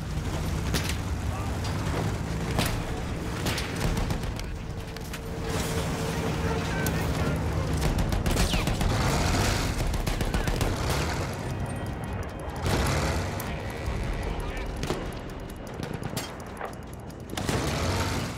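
A machine gun rattles in rapid bursts during a Battlefield 1 campaign battle, set among booming explosions and dense wartime din that stays loud and chaotic throughout.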